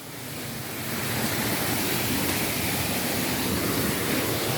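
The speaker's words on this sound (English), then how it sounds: "And that's the waterfall." A waterfall inside a very dark cave gives a broad, steady roar of rushing water that swells in over the first second, then holds loud and constant with no voices.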